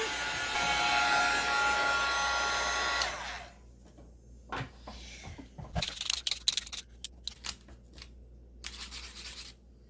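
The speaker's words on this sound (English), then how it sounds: "I'm gonna just hit that with the dryer for just 1 second" A hair dryer blows loudly and steadily for about three seconds, then cuts off, followed by scattered clicks, rustling and handling noises.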